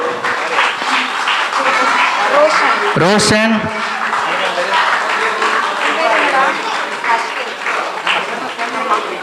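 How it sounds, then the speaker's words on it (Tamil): Audience clapping for children at the 22nd anniversary celebration of the St. James (Punitha Yagappar) parish community group, a steady broadband patter lasting throughout while an announcer's voice calls out names over it. "நமது பிள்ளைகளை கைத்தட்டி உற்சாகப்படுத்துவோம்."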